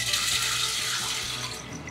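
Rum streams steadily into a ceramic volcano bowl while a Trader Vic's Rum Boogie drink is being made, a continuous liquid splashing and gurgling heard close up with no talk.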